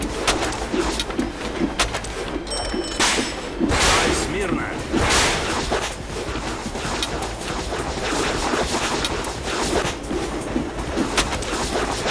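A train rushes along continuously in the Spider-Man 2 video game, a loud, dense rumble with rattling clickety-clack and whooshing bursts throughout, while voices talk over it.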